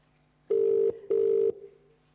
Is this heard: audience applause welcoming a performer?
no